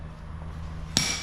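An engine part from an SN95 Mustang engine swap, dropped to try to break it apart: a quiet stretch ends with a single sharp metallic impact that rings on briefly.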